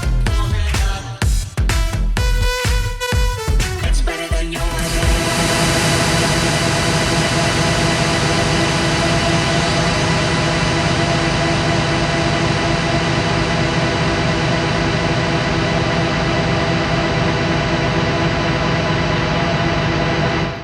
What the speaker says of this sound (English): this is an infinity reverb. I'll let you hear the effects first